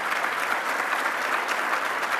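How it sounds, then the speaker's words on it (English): Brief, loud, sustained applause from a conference audience during an award presentation, a dense even wash of clapping with no talk. "and you give a hearty applause to Anirban."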